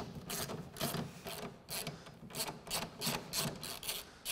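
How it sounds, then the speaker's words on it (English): A wrench and socket working a bolt free from a Polaris Fox front shock, giving quiet, close ratcheting clicks in quick bursts with short pauses between them. "We'll then proceed to the lower bolt with the wrench on the backside and a socket."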